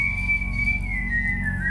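A lone whistled melody, a single clear sustained tone gliding slowly downward in pitch, steady and close over a low background hum.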